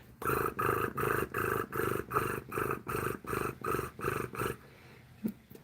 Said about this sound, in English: I like it when they purr.